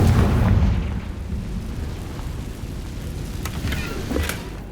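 A Confringo blasting spell goes off in Hogwarts Legacy with a deep booming burst at the start, fading into a rumbling, crackling wash with a few sharp flickers later on.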